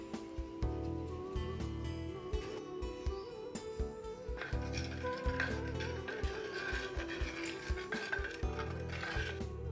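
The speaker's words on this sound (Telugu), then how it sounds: "ఇలా అన్నీ వేసుకున్న తర్వాత బాగా కలుపుకోవాలి" A vessel holding puja ingredients with tulsi leaves, camphor and crushed rock salt is stirred and mixed, giving close metallic scraping and clinking of a spoon against the vessel in a steady, repeated rhythm, with no voices.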